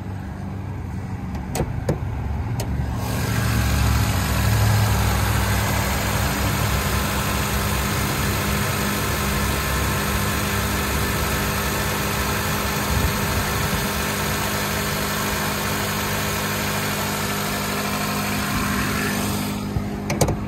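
A 2003 Honda Accord LX with an automatic transmission and a four-cylinder engine idles close by, a steady, even hum that holds throughout with no talking.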